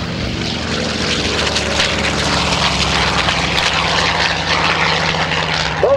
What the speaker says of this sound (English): The BMW 801 D2 radial and the music it makes